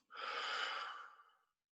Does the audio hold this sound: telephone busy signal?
no